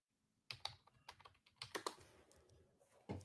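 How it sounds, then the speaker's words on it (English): Typing on a computer keyboard, a quick irregular run of sharp close clicks and taps, some louder keystrokes near the end, alone without talk. "Typing"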